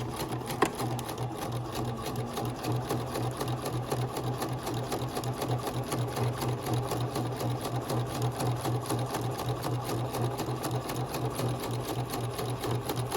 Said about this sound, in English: I'm gonna sew. Don't forget to backstitch.